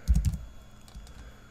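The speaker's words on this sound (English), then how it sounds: "I'm going to type in" A few quick computer keyboard keystrokes click close by, a short cluster of taps followed by fainter isolated presses in an otherwise quiet room.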